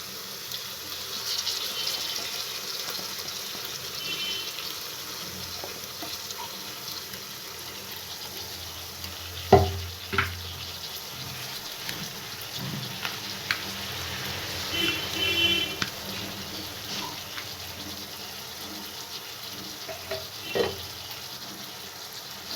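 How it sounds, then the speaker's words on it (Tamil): Ground spice paste for egg gravy sautés in a pan with a soft, steady hiss and sizzle, punctuated by occasional spoon knocks against the metal. "நல்லா வதக்கிக்கலாம்"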